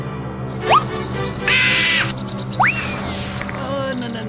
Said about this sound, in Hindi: चिड़िया की चीख सुनते ही मैं डगमगा गया